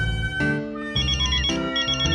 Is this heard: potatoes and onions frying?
no